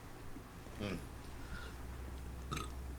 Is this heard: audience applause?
no